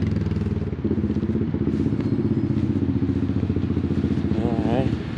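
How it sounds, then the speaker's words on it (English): A loud four-wheeler ATV engine runs nearby outdoors at an equipment auction yard, a steady throbbing drone that holds level throughout with a brief rising whine near the end, and a voice talks over it. "Somebody with a loud four-wheeler needs to get out of here."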